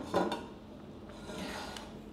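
Cooked instant noodles are drained and tipped into a bowl: a sharp clink of cookware at the start, then soft scraping and light clatter close by, with no talking.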